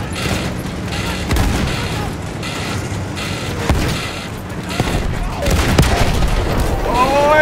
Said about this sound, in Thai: โอ้ยระเบิดรถถัง